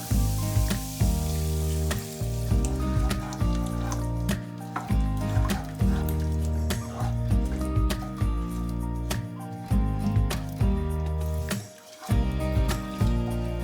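Onions frying in butter give a steady, close sizzle with occasional stirring, running beneath prominent background music.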